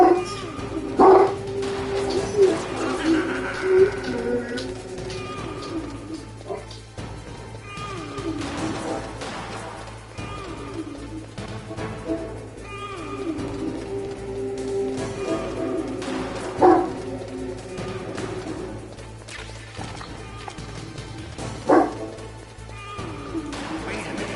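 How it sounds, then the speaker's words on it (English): A dog barks in scattered bursts through a noisy game scene, the yaps sitting among background music, effects and occasional voices rather than standing clearly alone. "I don't know what he's barking at."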